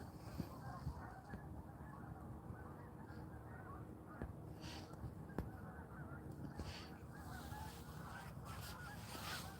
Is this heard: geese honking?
yes